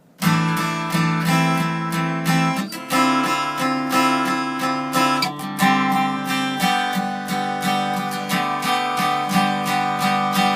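Steady strummed guitar chords, bright and full, repeating in a regular rhythm of sharp down strums with brief gaps, close and alone.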